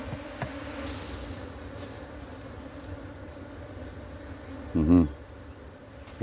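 A colony of Africanized bees taken from an old tomb hums steadily in a box. The drone is low and continuous and runs the whole time, with a brief louder bump near the end.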